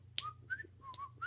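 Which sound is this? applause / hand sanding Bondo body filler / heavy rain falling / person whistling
person whistling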